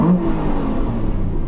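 An Aston Martin's 4.7 V8 engine revs loud and close, a dense, rumbling roar that swells at the start and holds steady, with no talking over it.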